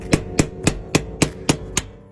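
Hammer blows on a metal knockout in an electrical panel box, seven sharp evenly spaced taps in quick succession, fairly close, with a short ringing decay after the last one.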